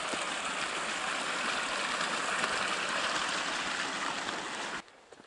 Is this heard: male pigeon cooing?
no